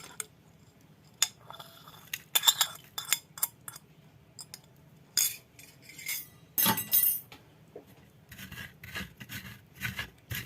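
Stone mortar and pestle grinding spices with palm sugar for a Sundanese cucumber reuceuh, giving repeated close scraping, rasping strokes in uneven bursts with occasional clinks of stone, no talking.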